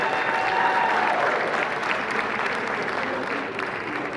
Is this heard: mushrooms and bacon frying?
no